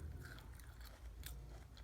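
Crunchy wafer of a Kinder Joy being chewed close up, a few soft crisp bites over faint background, quiet and alone.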